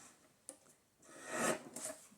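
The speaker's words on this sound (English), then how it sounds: "Let me cut that real quick." Scissors snip a paper remnant off a journal page, a faint tick followed by one slicing cut and a shorter second snip, close-up and quiet with no voices.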